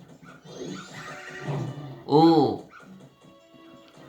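Cartoonish dogs bark and whimper in the Zelda: Majora's Mask video game, several yips over game music with a louder howling bark in the middle, while a voice briefly exclaims.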